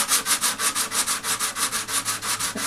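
A Gibson guitar body under damage repair is sanded by hand with 120-grit sandpaper, giving a loud, close, rhythmic rasping of quick back-and-forth strokes, about six per second, with no voices.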